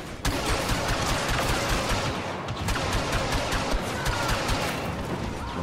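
Continuous heavy blaster fire in the Star Wars game Battlefront 2, a dense, loud, unbroken volley of rapid shots and impacts lasting several seconds.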